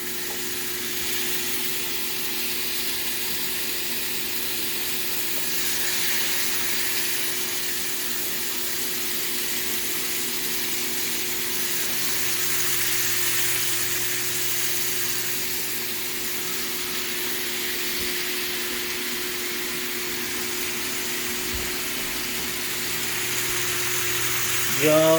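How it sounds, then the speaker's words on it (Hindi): Chicken tikka pieces cook in a preheated pan on a high flame, giving a constant, even hiss of sizzling that holds for the whole stretch, with faint talk in the background. "यहाँ हमने चिकन पीस पैन में डाल लिए हैं, तो 5 मिनट यही हम इसे हाई फ्लेम पे कुक करेंगे।"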